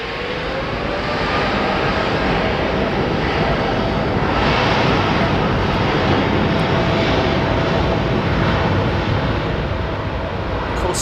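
Aircraft at London Heathrow Airport, a steady, loud broadband roar of jet engines that holds for the whole span without a break.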